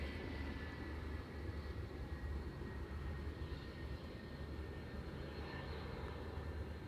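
A KLM Boeing 747, a 21-year-old airframe, arrives on the Polderbaan runway at Amsterdam Schiphol with a steady, broad engine roar that holds throughout, distant and unchanging, with no voices.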